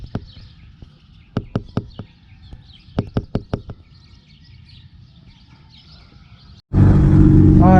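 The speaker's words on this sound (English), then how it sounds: "so right now we're running the MIATA. Hopefully it doesn't turn off." A Mazda Miata engine with a freshly painted two-tone valve cover bursts into a loud, steady running roar near the end, after a stretch of quiet with scattered sharp knocks and taps.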